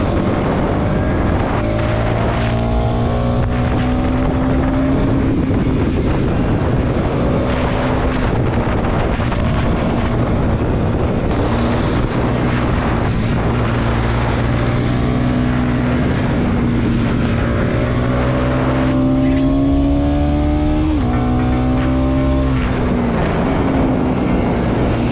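Two modified Bajaj NS200 motorcycles ride together, their engines droning and shifting pitch continuously under heavy wind noise from riding, with rising and falling revs heard close and loud throughout.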